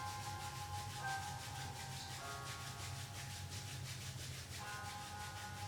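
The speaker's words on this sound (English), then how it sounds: "we are going to rub the palms together to create some" Palms of the hands rubbing together at the end of a beginners' yoga class, a soft continuous dry friction sound with a steady back-and-forth rhythm, quiet and close.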